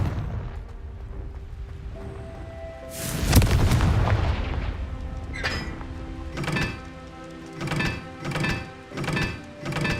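A heavy Confringo spell explosion in the Hogwarts Legacy video game booms with a rumbling tail, followed by a run of smaller rhythmic thumps.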